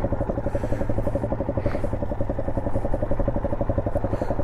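Honda SL230 trail motorcycle ridden through a forest trial course, its engine a steady close, rumbling drone with a rhythmic, chugging pulse that holds throughout without talk.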